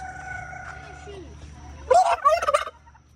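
Turkeys gobble in a loud, close burst of rapid warbling calls near the end, after a quieter stretch of low background sound.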